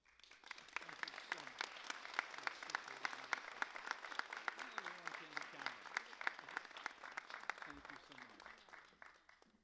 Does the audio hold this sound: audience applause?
yes